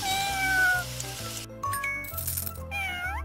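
A cartoon cat meows repeatedly in a children's superhero video game, with rising and falling cries over bright game music and chiming effects.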